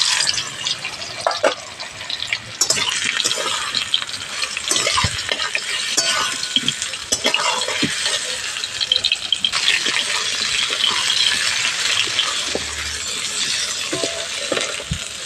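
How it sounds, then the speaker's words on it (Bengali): Spiced okra frying in hot mustard oil in a wok, giving a steady, loud sizzling hiss that runs without a break, with a few scraping stirs and light clatter against the pan. "তেল গরম হয়ে গেছে, মশলা মাখানো ভেন্ডিটা ভেজে নেব।"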